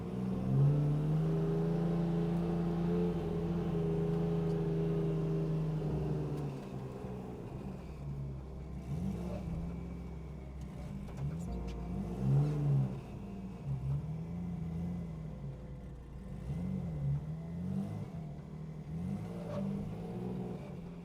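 A BMW E82 car engine idling and revving at a track before a first drift attempt, loud, steady engine drone that drops after several seconds, then rises and falls in repeated revs.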